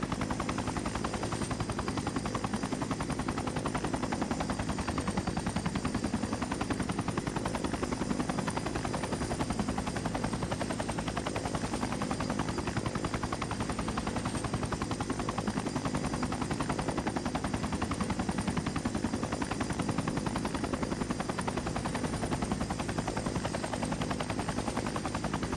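A constant, loud helicopter rotor drone from the Prepar3D V5 flight simulator, with a steady whirring chop, unbroken for the whole stretch, no voices.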